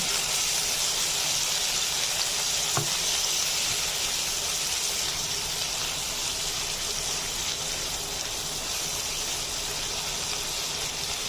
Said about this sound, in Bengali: চিংড়ি মাছগুলো দিয়ে আমি 1 মিনিট ভেজে নেব।